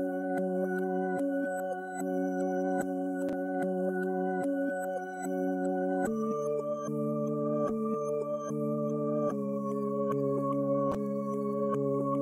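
Ambient music sample pitched up three semitones, reversed and layered with flutter effects: sustained stacked tones that shift chord about every few seconds, punctuated by soft percussive clicks, moderately quiet and without voices.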